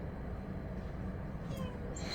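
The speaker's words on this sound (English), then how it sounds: "Oh, sorry, my cat is very annoying now." A pet cat meows faintly indoors, a couple of brief high cries near the end over a steady quiet room hum.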